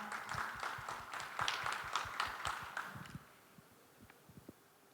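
Audience at an innovation expo presentation gives a short round of clapping for a tax office investigator taking the stage, individual claps distinct and moderately near, fading out after about three seconds into a few stray sounds.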